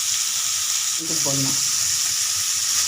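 Onions and tomatoes stir-fry in a pan for a yam curry, a loud, close, continuous hissing sizzle with a brief faint voice murmuring partway through.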